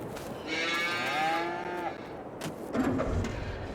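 Cattle in a farming video game give one long drawn-out moo that slides downward, fairly near and moderately loud over a soft background hum, then fade into quieter shuffling noise.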